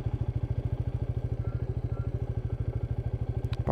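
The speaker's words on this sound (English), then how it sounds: "just don't drop the bike, Gary." A Royal Enfield Meteor 350 single-cylinder motorcycle chugs steadily at low revs on a rough off-road track, its even thumping pulse close and continuous with a light clatter near the end.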